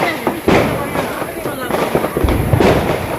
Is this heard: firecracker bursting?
yes